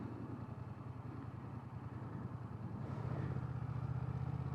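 A learner's motorcycle runs at the clutch biting point during rider training, its engine holding a low, steady throb that swells louder toward the end as it is revved, heard fairly close with no talk.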